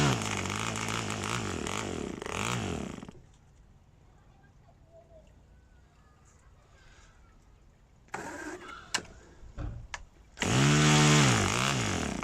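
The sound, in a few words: PAW model engine running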